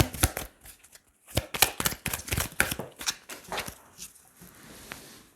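Tarot cards being shuffled by hand in a series of quick papery riffles and flicks, close up, with one card flying loose, ending in quieter rustling.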